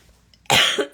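A single sharp cough, followed by a brief second burst, close and loud against near silence, from a person during an oil painting session.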